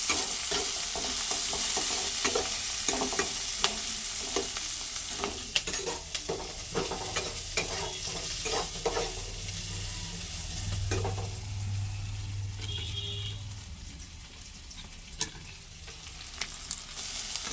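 Panch phoron, onion and green chili fry in hot oil with a steady crackling sizzle, punctuated by scattered stirring clicks and taps and no voices.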